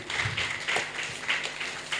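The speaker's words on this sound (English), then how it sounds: "So give him another round of applause again." An audience at a youth leadership training session gives a round of applause: steady, fairly soft clapping from a group, with no voices heard.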